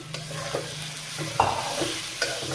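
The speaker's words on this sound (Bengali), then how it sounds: "মাছগুলো একটু কষিয়ে নেবো" Parshe fish sautéing in a pan with cumin powder and spinach makes a steady low sizzle, with a few soft scrapes and taps of a spatula stirring close by.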